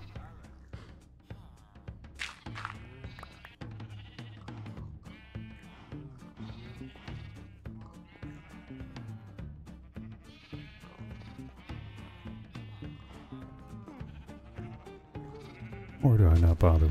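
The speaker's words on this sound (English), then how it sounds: "I've just got a couple more sheep." Sheep bleat repeatedly in a farm-building video game, the calls layered under near-constant game sounds and someone talking throughout, with a loud burst near the end.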